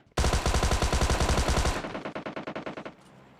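Automatic gunfire in the mobile shooter game PUBG Mobile Lite: a loud, dense burst of rapid shots for well over a second, then a slower, quieter run of single reports that fades out.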